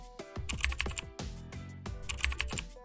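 Names are typed on a computer keyboard as a close series of quick, irregular clicking keystrokes, with a brief pause midway before another run of taps.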